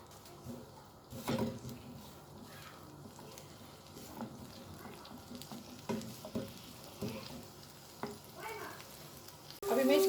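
Minced meat (keema) frying in a pan, a soft low sizzle with occasional stirring scrapes and clatters, fairly quiet, ending in a louder burst near the close.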